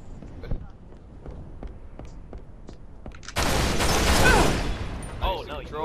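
Rapid bursts of gunfire from a multiplayer video game crackle loudly through the second half, following a stretch of quieter clicks and taps, with a voice breaking in near the end.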